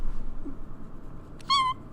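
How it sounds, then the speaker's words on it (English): A domestic cat being petted gives one short, clear meow near the end, after a stretch of quiet room noise with no talking. "we're petting our cat instead of talking because she's so cute"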